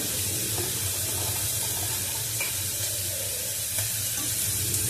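Carrots and beans fry in a pan for pulao, giving a continuous hissing sizzle at an even level with faint occasional pops.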